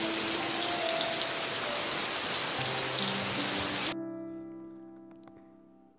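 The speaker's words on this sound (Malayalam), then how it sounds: "ഇവിടെ ഭയങ്കര മഴയാണ്." Heavy rain pours down loudly and steadily around a house, a dense continuous hiss that cuts off abruptly about two-thirds through, leaving faint low tones behind.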